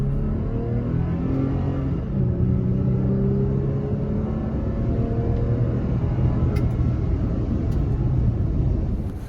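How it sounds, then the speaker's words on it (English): 2020 Toyota Tacoma TRD Pro with TRD exhaust giving a steady, loud, close engine drone with a low rumbling snarl throughout. "The TRD exhaust gives it a special-sounding little snarl."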